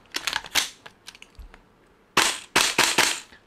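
A Tokyo Marui MWS gas blowback airsoft rifle fires several separate sharp cracking shots, then a fast burst of loud, close, snapping reports.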